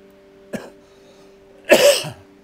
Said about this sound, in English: Excuse my coughing, it's been a rough day.